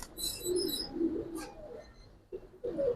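Pigeons, giribaz and coloured fancy breeds, cooing close by in soft low rolling calls, with a few brighter chirps and pauses between phrases.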